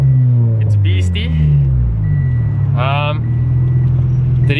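A turbocharged Toyota 86 engine idles with a steady low rumble and revs up briefly while someone talks over it nearby.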